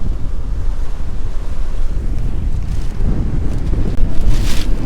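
Loud rushing water and surf of a rising tide washing in on the shore close by, with heavy wind buffeting the microphone throughout and no voices.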